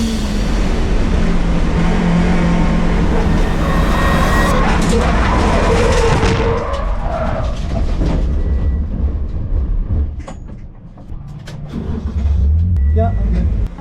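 Race car in a real-life endurance race spinning out in one of the fastest corners after dipping a wheel on the inside curb. A loud, continuous roar of engine and tyres fills the first half, then fades to a quieter rumble with scattered clicks.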